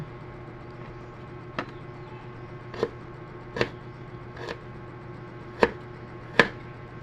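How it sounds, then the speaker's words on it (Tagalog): Knife chopping ginger, garlic and onion on a board, six sharp separate knocks spaced about a second apart, close and clear over a quiet background hum, with no talking. "tapos na ako maghiwa, magbalat"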